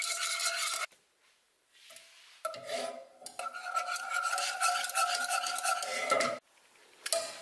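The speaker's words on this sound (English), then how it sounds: "I'm going to beat in the butter, one piece at a time" Butter is beaten piece by piece into a lemon butter cream sauce in a pan, with close scraping and whisking strokes in bursts separated by short quiet pauses.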